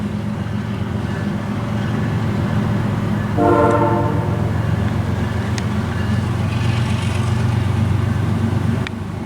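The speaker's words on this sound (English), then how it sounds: "So that's what a train horn sounds like when it's 12 degrees out." A CSX freight train horn sounds once, a brief harmonic blast over the steady rumble of passing rail cars, fairly distant, in 12-degree cold at Lacona, New York.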